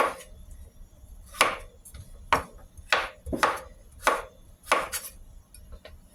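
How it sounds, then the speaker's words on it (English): Knife chopping pumpkin into cubes on a cutting board for a Jamaican chicken soup, heard as about seven sharp, fairly loud chops in an uneven rhythm with quiet pauses between them. "So now I will be cutting some of my veggies in cubes. This is pumpkin."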